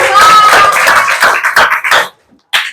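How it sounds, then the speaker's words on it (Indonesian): Classmates give a student a short, dense burst of hand clapping in a classroom. The clapping fades after about two seconds, followed by one last brief clap. "Tepuk tangan untuk Fadil."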